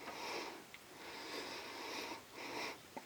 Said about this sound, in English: Give it a sniff.